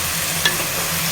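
Green pea and tomato curry with fresh coriander is stirred in a frying pan, a brief scrape over a steady close sizzle, with no talking.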